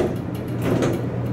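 Dover Impulse hydraulic elevator door sliding shut at a hotel, with old-style door bumpers; a steady mechanical rumble and swish lasting just over a second, close by.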